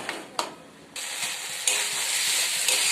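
Spiced curry frying in a pan while being stirred, a continuous sizzle with scraping spoon strokes and a few sharp clinks, growing louder partway through.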